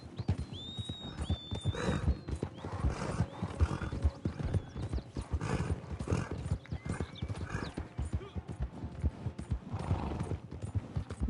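A horse in Red Dead Online clip-clops steadily along with loud, close hoofbeats, snorting and whinnying now and then, with no talking over it.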